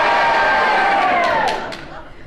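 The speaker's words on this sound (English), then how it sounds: "And if you agree with it, will you please cheer? If you disagree, will you please boo?" A studio audience at a radio panel game show cheers and boos together in one loud, sustained mass of voices that tapers off toward the end.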